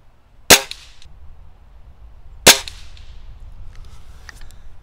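Two sharp, loud shots from a Crosman Fury air rifle firing HN Hornet pellets at a target, spaced about two seconds apart, each with a quick ringing decay, followed by faint metallic pings.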